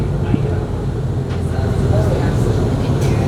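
Miami-Dade MetroMover train approaching a downtown station, a low rumbling roll with rising mechanical hum and faint squeals, heard up close and fairly loud throughout.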